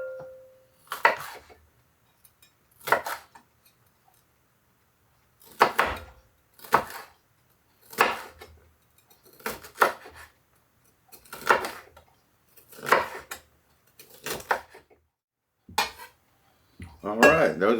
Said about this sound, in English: let's get those chopped up